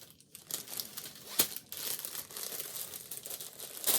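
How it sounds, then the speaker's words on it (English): A bag crinkles and rustles continuously and close up as fabric is stuffed back into it, with irregular crackling bursts and no one talking. "Put it back in the bag. Sorry for the rustling,"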